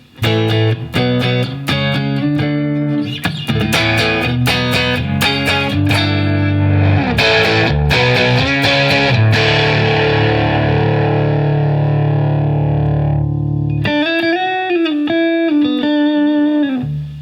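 A heavily distorted electric guitar plays loud crunchy chords, then a long ringing sustain, followed by quicker picked notes.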